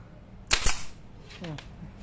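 Two sharp snapping shots in quick succession, a mechanical tool firing, followed by a brief muffled voice and a fainter click.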